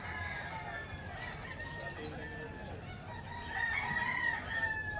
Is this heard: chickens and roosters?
yes